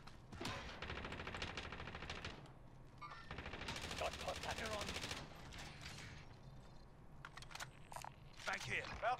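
Gunfire in a Call of Duty multiplayer match comes as rapid automatic bursts and scattered shots, close and steady throughout, with a sharper flurry near the end.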